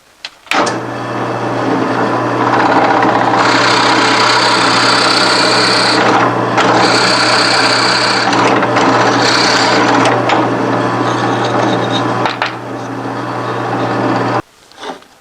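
A power drill bores a T-nut hole into a wooden support block for a miter saw station, a loud steady whir with a low hum running nearly the whole time, pitch shifting as the bit cuts, then stopping.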